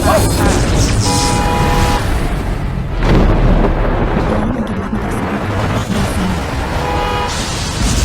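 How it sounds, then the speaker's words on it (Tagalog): A dramatic lightning-tribulation effect: heavy thunder booms crash at the start and again midway, mixed with ringing tonal layers and a dense, loud rumble between the strikes. "Yan ang kidlat na pagsubok"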